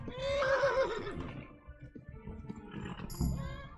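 In the medieval game Kingdom Come: Deliverance, a horse lets out a loud, wavering whinny up close, followed by snorting, shuffling movement and a brief high squeal.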